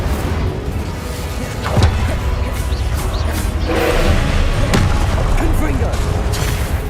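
A fiery Incendio spell blast from the wizarding game Hogwarts Legacy, with sharp booming bursts near two and five seconds over a dense, continuous layer of combat noise, while a voice speaks over the action.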